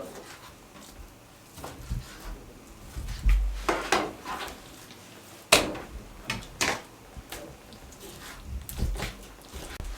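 A knife chops half a kilo of chicken breast into small pieces on a board, giving a few scattered, fairly loud knocks and cuts between quieter handling noises.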